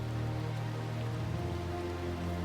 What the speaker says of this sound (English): it's raining outside. Right. So it's like, oh, it's coming down pretty heavy